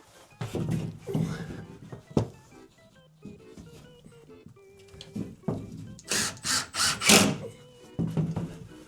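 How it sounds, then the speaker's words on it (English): A power screw gun drives screws into wood during a 1980s house renovation, giving short whirring bursts and a rapid cluster of loud grinding pulses near the end, with people talking in between. "That does set the screws nice though, that's definitely easier."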